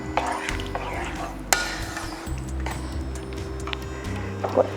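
A yogurt curry thinned with water is stirred in a pot with continuous close scraping and swishing. One sharp knock of the utensil stands out against the steady stirring.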